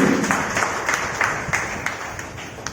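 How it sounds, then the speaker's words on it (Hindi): An audience at a business development meeting claps, a short burst of applause that starts fairly loud and tapers off over a few seconds. "एक बार उनके लिए जोरदार तालियां हो।"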